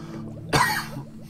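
A single sharp cough bursts out close by, brief and loud, with faint background hum underneath.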